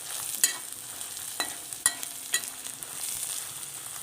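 Washed, still-damp urad dal roasts with dried red chillies in a pan for drumstick leaf chammanthi podi, a soft low sizzle broken by several sharp scraping stirs at irregular intervals, close and fairly quiet.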